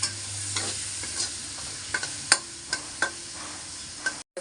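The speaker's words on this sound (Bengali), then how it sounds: "চিংড়ি মাছটা ভালো করে ভেজে নিতে হবে।" Small prawns fry in oil in a pan with a steady close sizzle, punctuated by sharp scraping clinks as a utensil stirs them every half second or so.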